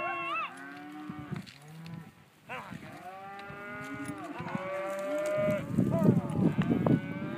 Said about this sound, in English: This is a herd of heifers and some of the neighbors' cows.